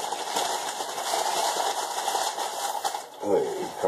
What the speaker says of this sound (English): About 10 seconds, maybe, of the blender going.